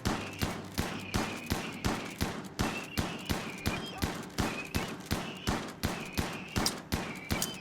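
Gunfire aimed at a Scyther in the Rimworld video game: a rapid, regular stream of sharp shots, several per second, continuing evenly throughout at moderate loudness.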